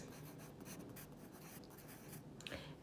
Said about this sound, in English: I'm gonna keep writing my letters so close together because I'm holding this camera and writing.